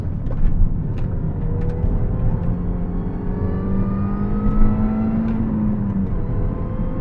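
Supercharger whine from a MINI Cooper S R53 engine under way, a steady rising mechanical whir layered over continuous engine and road noise throughout, loud and close, no talking.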